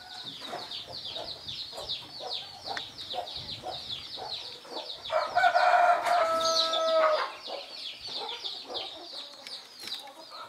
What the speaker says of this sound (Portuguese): Aí tem uma galinha chocando.